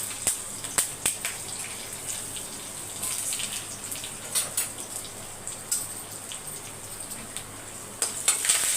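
Curry leaves and a dried red chili sizzle and crackle in hot oil, a steady fine frying hiss with a few sharp pops and stirring clicks, close and moderately loud.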